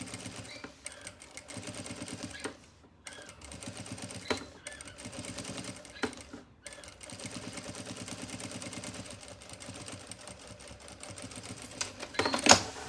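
Sewing machine stitching a seam inside a fabric toiletry bag, quiet close rapid mechanical chatter in bursts with brief pauses and small handling clicks, no talk.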